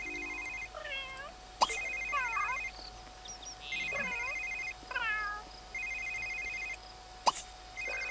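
A telephone rings in The Sims 3 in repeated bursts, separated by short game meows and brief clicks, with no one talking.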